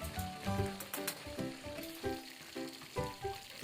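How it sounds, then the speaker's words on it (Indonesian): Chili sambal fries in a generous amount of oil, sizzling and crackling up close with irregular pops and bursts of stirring. "Aku goreng sambalnya pakai minyak agak banyakan teman-teman"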